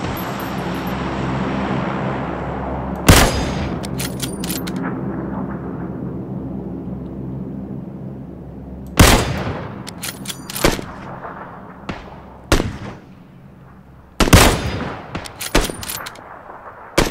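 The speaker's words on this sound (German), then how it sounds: "Ich hab geschossen." Sharp, loud gunshots in the battle royale game PUBG ring out as isolated cracks and short bursts spread across a quiet stretch, each followed by a long fading tail over a low steady hum.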